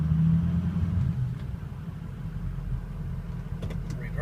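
2006 Ford F250 Lariat 4x4 diesel pickup idling, a steady low engine rumble close by, with a brief shift clunk near the start and a few faint clicks near the end.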